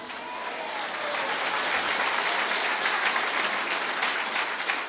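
Sustained applause from a church congregation, a dense wash of clapping that swells slightly and continues throughout.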